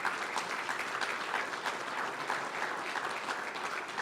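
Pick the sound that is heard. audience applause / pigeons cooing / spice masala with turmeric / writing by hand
audience applause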